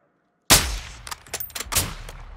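Gunfire in the Modern Warfare 2 campaign: after a brief silence, one loud close shot bursts out, followed by a scattered run of quieter shots with no voices.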